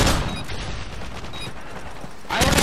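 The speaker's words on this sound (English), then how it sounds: "I was shooting at him!" Gunfire in Call of Duty: Modern Warfare 3, with a dense, continuous clatter of shots that swells into a loud burst at the end.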